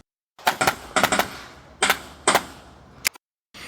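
Pistol shots ring out in quick pairs and singles as a shooter engages targets on a USPSA practical shooting stage, sharp and fairly close with short pauses between strings.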